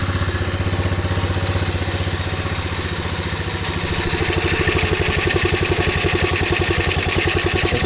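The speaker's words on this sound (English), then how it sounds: "All right, let's fire the bike up." A motorcycle engine warms up at idle, a steady close-up putter that grows slightly louder and more pulsing halfway through. It runs alone with no voices.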